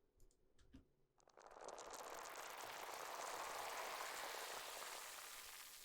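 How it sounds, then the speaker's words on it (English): A creaking door sound processed with granular effects, reverb and Ableton's Corpus resonator: a few sparse clicks and taps, then a swelling, shimmering wash of grainy texture that holds and slowly fades. "it's just a creaking door that I've shown you before with just different effects on it."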